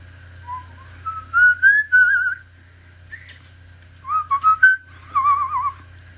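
A person whistles a wavering melody in short phrases with pauses between them, clear and close over a faint steady low hum, with no talking.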